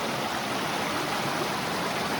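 Mountain stream running over woody debris and a log, a steady, even rush of flowing water close by with no pauses and no voices.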